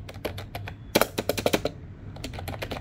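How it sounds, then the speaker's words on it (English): Rapid clicks of a retro-style keyboard with rounded keys being typed, an irregular patter of keystrokes close up with a few louder bursts, over a low background hum. "Typing sound of the keyboard."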